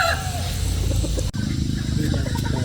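A gamefowl rooster, a Papuro straight-bred breeder from the Golden Boy line, clucks in short repeated calls close by over a steady low background, with a brief dropout midway.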